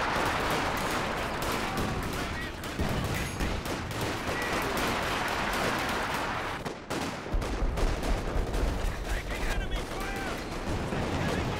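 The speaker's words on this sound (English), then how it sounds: "some base howitzer fire?" Heavy base howitzer artillery fire in a multiplayer war strategy game, a dense rolling barrage of booms and gunfire running throughout at steady loudness, with a deeper thumping section near the end.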